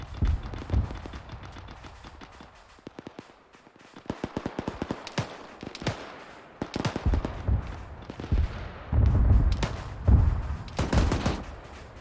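Heavy weapons fire in ArmA 3, a Mark 19 grenade launcher with rifle fire: scattered sharp bangs, then bursts of rapid shots and deep booming impacts, growing denser and louder toward the end.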